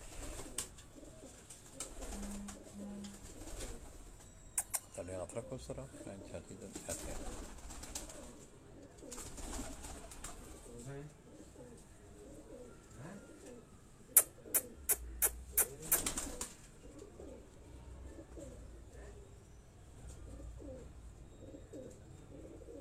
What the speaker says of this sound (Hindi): ये दोस्तों वो सब्ज़ गले वाले कबूतर